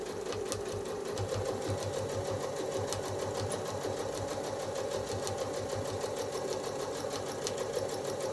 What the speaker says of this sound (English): go ahead and stitch up and stitch down to ditch that area